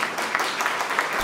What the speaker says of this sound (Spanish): Vamos a darle el aplauso,